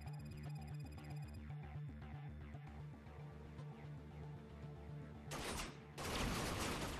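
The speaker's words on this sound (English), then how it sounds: "That's a lot of gunfire." Gunfire rattles in the video game Binary Domain, rapid bursts and shots over a pulsing music bed, ending in a loud noisy blast of fire in the final seconds.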